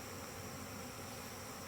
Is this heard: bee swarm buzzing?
yes